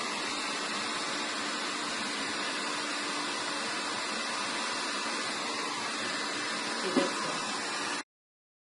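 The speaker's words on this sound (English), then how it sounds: "So you just want to do a deep lean to the side and bring the diffuser up" A hair dryer fitted with a diffuser runs steadily as hair is dried in a salon, a continuous broadband whoosh holding level for about eight seconds before cutting off abruptly, with a brief soft bump near the end.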